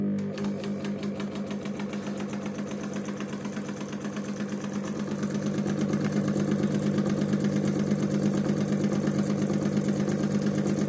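An Einhell TC-SS 405E scroll saw runs at its lowest speed of 400 rpm with a steady mechanical hum and a fast rhythmic chatter. It grows slightly louder midway and continues alone, close by.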